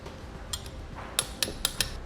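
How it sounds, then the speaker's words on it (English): Torque wrench clicking as it tightens button head bolts on an Air Lift LoadLifter air helper spring bracket on a 2018 Chevrolet: a few light, sharp metallic clicks with small taps, near and quiet, no talking. "we'll torque these bolts"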